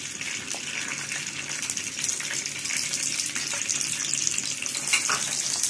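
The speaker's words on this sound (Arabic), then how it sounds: "هننزل عليه بالسمنه او بالزبده" Ghee or butter poured over golden baked basbousa, a continuous close hissing, gushing pour with a faint sizzle, steady and alone.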